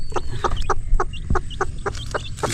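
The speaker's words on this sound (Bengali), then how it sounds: "তো এই হচ্ছে আমার মুরগি।" A hen with newly hatched chicks clucks in short, regular bursts, close by, about ten soft pulses, with faint chick peeps around them.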